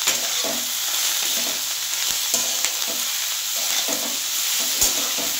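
Green chilli paste with salt and turmeric being fried in a pan for a potato and poppy seed dish, with a steady sizzle and scattered stirring scrapes and clinks throughout.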